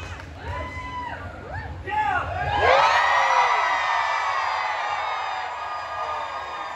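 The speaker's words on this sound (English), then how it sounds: "I'll just say yell, and you just yell really loud." A concert crowd yells and whoops loudly on cue at an outdoor show, the cheering swelling into a sustained roar after a few scattered shouts.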